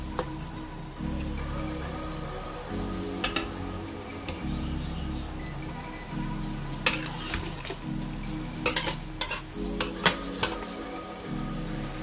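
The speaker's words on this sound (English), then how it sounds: "Just stir all the ingredients and simmer it." Pork afritada with cartilage stirred in a pot, low simmering sizzle under intermittent clinks and scrapes of a utensil against the pot, growing busier toward the end, no talking.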